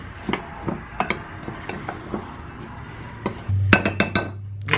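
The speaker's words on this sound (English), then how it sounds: "I'm gonna mix that together first." Apple walnut crisp topping is stirred in a bowl, giving repeated close clinks and scrapes of a utensil against the bowl in an irregular rhythm, with a few louder knocks near the end.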